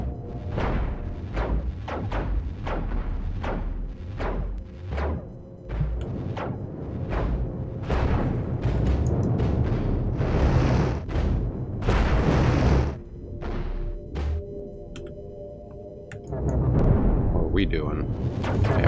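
Cannon fire and impacts in a Cosmoteer space battle, a rapid series of loud booming shots and thuds repeating throughout, with heavier rumbling hits in the middle, while a voice talks over it.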